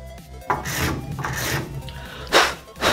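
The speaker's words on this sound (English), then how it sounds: "we're gonna use our rat tail file to cut a notch into the PVC." A rat-tail file cuts a notch into PVC pipe for a homemade bow, heard as close, loud rasping strokes, one long pass followed by two short ones.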